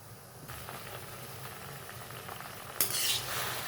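Tomatoes and cashews cooking in a pan with onion for chicken masala, giving a steady soft sizzle with stirring scrapes, then a louder burst of hissing near the end as the ingredients hit the hot pan.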